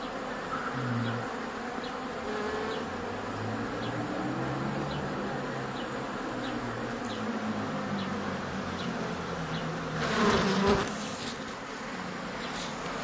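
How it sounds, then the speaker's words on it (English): Honeybee swarm buzzing in the air outdoors, a dense continuous hum of many bees with individual insects passing close, swelling briefly louder near the end; no talk. "It's getting noticeably louder around me because of the bees just being in the air."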